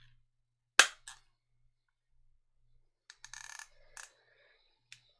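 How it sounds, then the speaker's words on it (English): A sharp click as the funnel lid of a 23andMe saliva collection tube is pushed shut, followed by a few smaller clicks and light plastic handling in a quiet room. "close the funnel lid as shown by firmly pushing on the lid until you hear a click"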